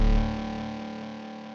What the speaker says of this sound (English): This is a reverb throw rack that I use all the time